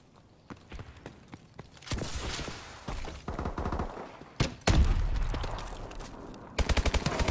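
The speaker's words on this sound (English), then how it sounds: "Yeah, the grenade launcher." Grenade launcher and other weapons firing in a first-person shooter gun game, sharp repeated shots and a burst of rapid fire, with heavy thumping blasts and loud rolling explosions.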